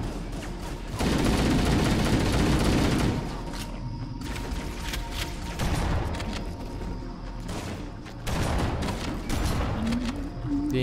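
Heavy weapon fire from Halo: Combat Evolved Anniversary, a dense, continuous barrage of booming, rumbling blasts with sustained loud bursts and brief lulls, no clear speech over it.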